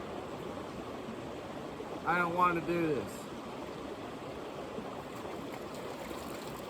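Freezing cold running creek water rushes in a steady, fairly loud wash throughout, with a brief spoken voice breaking in over it partway through.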